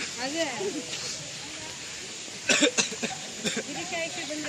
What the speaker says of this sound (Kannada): ನೋಡಿ ಕೆಮ್ಮೆ ಬರ್ತೈತೆ,